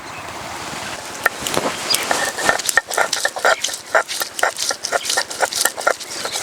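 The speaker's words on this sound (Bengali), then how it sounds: "আদা রসুন একসঙ্গে বেটে নিলাম" Garlic and ginger ground together on a stone slab, a rhythmic series of close scraping, knocking strokes that start sparse and settle into a quick, steady back-and-forth.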